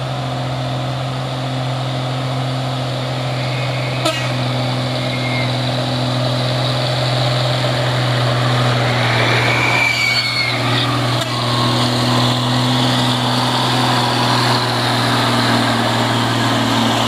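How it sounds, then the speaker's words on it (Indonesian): Low, steady diesel drone from loaded dump trucks carrying stone and a Fuso intercooler truck slowly climbing the Bukit Kodok hill, heavy engines laboring continuously at mid distance with a faint passing whine midway. "ini ada 2 unit truk, dump truk yang bermuatan batu Petrun bosku, sama si intercooler Fuso ya"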